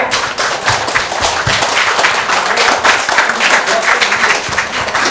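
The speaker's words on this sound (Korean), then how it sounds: "마지막 박수 한번 치주십시오" Clapping from residents at an apartment remodeling committee meeting in Daejeon, a loud, close, continuous round of applause from a roomful of people, with a few heavier thumps mixed in.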